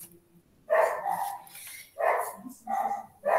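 A pet dog named Spinter barks repeatedly nearby, four loud sharp barks in an uneven rhythm after a short quiet start.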